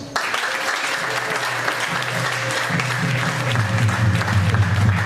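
A concert audience applauds a church choir with sustained, dense clapping that stays loud and even throughout, with a faint crowd murmur underneath.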